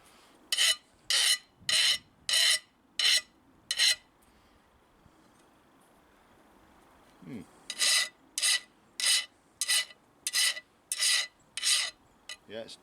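Rasp filing in two bursts of steady, evenly spaced strokes, about six and then eight harsh scrapes, with a short quiet pause between them.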